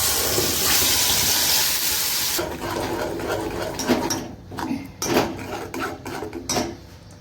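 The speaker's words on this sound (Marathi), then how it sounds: "हे वाटण आपल्याला तेल सेपरेट होईपर्यंत चांगलं परतून घ्यायचं आहे।" Masala paste for a halwa fish curry fries in hot oil. It gives a strong, steady sizzle that eases off midway, and then comes a run of scraping and stirring clatters.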